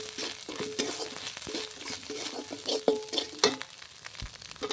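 Spice paste with grated coconut, ginger and tomato is fried and stirred in a pan for Bengali potol curry, sounding as a close crackling sizzle broken by repeated scraping spoon strokes.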